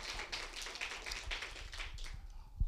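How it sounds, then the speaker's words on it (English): An audience at a town hall meeting applauds, a faint crowd of steady clapping heard from some distance. "a round of applause for Florida League of Cities"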